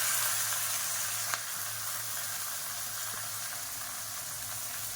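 Onions frying in oil for kathirikai kuzhambu, a brinjal curry, with a constant, close sizzle and hiss and a brief utensil tap early on.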